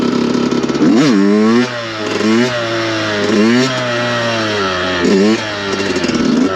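A Yamaha YZ 125 two-stroke motocross bike revs loud and close in repeated rising blips at mid throttle, the engine climbing and dropping several times as the rider sets up a wheelie, with no talk.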